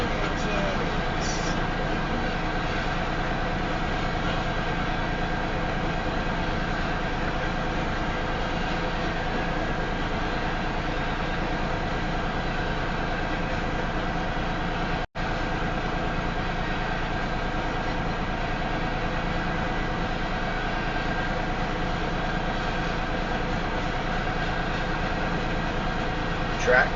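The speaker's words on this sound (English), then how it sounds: "that train is going to be long with lots of train engines" A long southbound Union Pacific grain train with several locomotives rolls past on track north of Elkhart, Iowa, a steady broad rumble and rail roar holding evenly throughout with no clear breaks.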